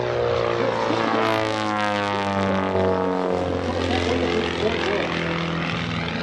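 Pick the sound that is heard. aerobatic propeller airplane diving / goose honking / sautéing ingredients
aerobatic propeller airplane diving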